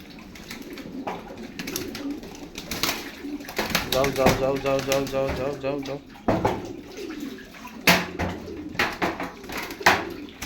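Pigeons coo amid splashing water as they are bathed, while a person nearby calls out the same word over and over.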